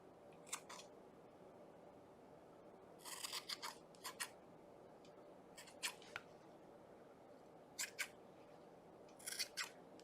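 Sharp scissors snip at a yarn pom-pom in short bursts of two to four quick cuts, spaced apart against a quiet room, close and crisp.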